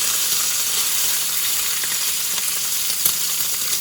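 Bacon sizzles and crackles in a frying pan on its way to a bacon, egg and cheese sandwich, a steady close hiss with small pops and no voices.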